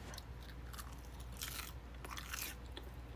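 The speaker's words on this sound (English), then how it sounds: "Take a bite." Crunchy country fried steak bitten and chewed up close, with several loud, crisp crunching bursts over about three seconds and no talking.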